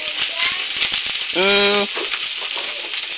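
Steady, dense sizzling of food frying in hot oil fills the clip, with a brief voiced tone partway through over the constant crackle.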